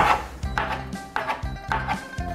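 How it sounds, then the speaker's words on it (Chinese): A knife chops celery leaves finely on a cutting board, sharp rhythmic thuds in quick bursts of two or three strokes, close and clear with no talking. "把芹菜的叶子切碎"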